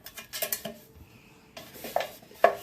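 Vegetable oil being spread around the inside of a metal baking pan for bread, a few light scrapes and clinks of metal, quiet and intermittent with short silent gaps between strokes.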